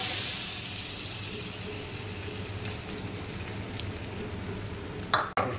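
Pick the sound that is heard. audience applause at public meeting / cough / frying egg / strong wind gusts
frying egg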